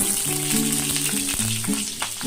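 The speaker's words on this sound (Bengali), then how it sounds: "আলু আর এই কুলমুটিগুলো দিয়ে ভালো করে ভেজে নিই" Potatoes and vegetables fry in a pan for a Bengali Malabar spinach dish, making a continuous close sizzle. A steady tonal hum runs underneath, and no one talks.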